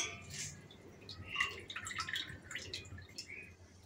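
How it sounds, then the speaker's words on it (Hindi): Whey drains and drips from fresh paneer strained through thin cloth, a run of close, irregular liquid trickles and drips over a quiet background. "इसको हम इस तरह छान लेंगे पतले कपड़े से"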